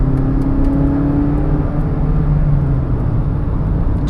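A Mazda CX-5 engine held high and loud, pushed toward redline: a steady, dense droning roar with a slowly shifting pitch, continuous throughout with no talk.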